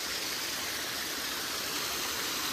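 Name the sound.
Jawhar Ghat waterfall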